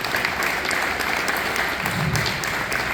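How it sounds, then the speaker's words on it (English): A crowd claps steadily for a few seconds, dense and even applause filling the room. "round of applause"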